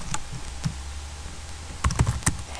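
Computer keyboard typing of C++ code, heard close up as scattered quick clicking bursts separated by pauses, with one tight cluster of keystrokes near the end; no talking.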